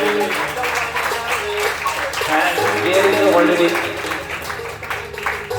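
An audience applauds a week's winner at a Saturday seminar, with steady, dense clapping throughout and a person speaking over it.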